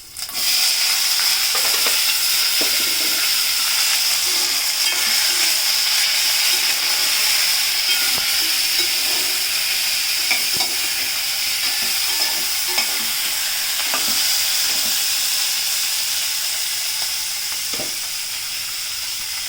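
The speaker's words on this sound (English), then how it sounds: "Now I will be adding one by one my green chilies, tomatoes," Green chilies and tomatoes frying in a pan with roasted groundnuts, a loud, steady sizzle and hiss close by with occasional stirring scrapes throughout.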